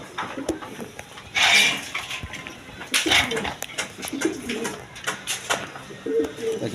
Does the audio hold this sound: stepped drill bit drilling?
no